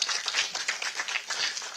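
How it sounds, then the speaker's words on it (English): Audience applause at an awards ceremony, a steady patter of many hands clapping at moderate distance, brief and even without voices. "A loud applause for him."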